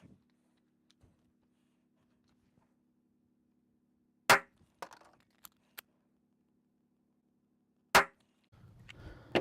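Glock 19 Gen 5 pistol shots, two sharp loud reports about four seconds apart with brief metallic clacks after the first, over a faint steady hum and otherwise quiet background.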